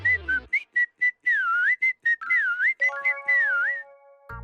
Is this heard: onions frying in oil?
no